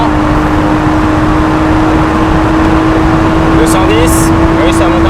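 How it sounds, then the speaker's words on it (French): BMW 535i Kelleners Sport accelerating at high speed on an open road: a loud, steady engine drone with wind and road roar filling the cabin, and someone talking over it. "Allez hop, accélère un petit peu, il n'y a personne."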